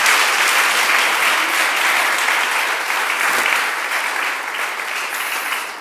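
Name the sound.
congregation applause, clapping as offering in church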